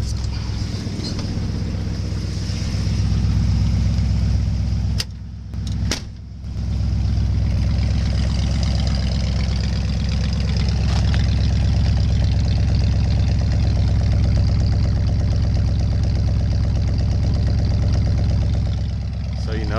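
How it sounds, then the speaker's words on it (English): A 1967 Ford Mustang's 390 V8 idles steadily up close, a rough, rumbling old muscle car engine, loud and continuous, with a brief dip partway through. "it sounds like an old muscle car."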